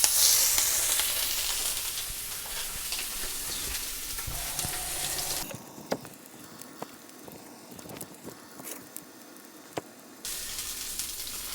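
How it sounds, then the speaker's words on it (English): A salmon fillet, frozen and sous-vide cooked beforehand, sears skin side down in a hot pan with a loud, dense sizzle that suddenly quietens halfway, leaving softer crackles and scattered pops before swelling again. "instructions say to sear skin side down for 3 to 4 minutes"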